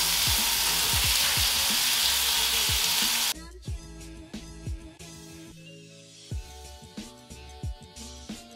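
Chicken breasts sizzle loudly in a frying pan. The steady hiss drops to a quieter crackle as the pieces are turned, with scraping and clunks from the utensil.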